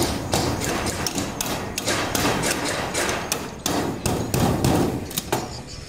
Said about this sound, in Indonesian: makanya pada saat kita memaku